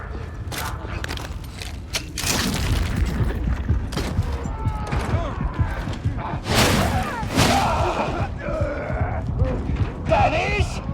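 Explosions and gunfire from the Warhammer 40k: Darktide video game, with loud booming blasts and dense mechanical combat noise running throughout under shouted voices.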